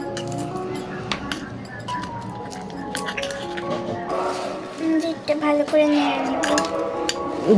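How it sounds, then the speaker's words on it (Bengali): Metal clinks and scrapes of a utensil stirring food in a small pot on a stove in a mini kitchen, with people talking over the clatter. "আমি এটা একটু নেড়ে নিব ভালো করে"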